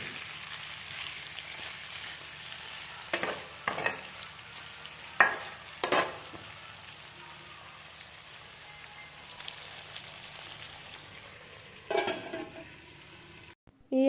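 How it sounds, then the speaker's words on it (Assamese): Pork, potatoes and tomatoes fry in a pan with a soft, steady sizzle, broken by several louder scrapes and clatters as a utensil stirs the mix. "গোটেইখিনি এতিয়া ভালদৰে সিজালৈকে ভাজি ল'ম"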